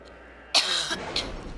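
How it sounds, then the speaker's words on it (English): Two short, sharp allergy coughs close by, the first louder and longer, the second a brief follow-up, with quiet room tone around them. "I apologize for the coughing."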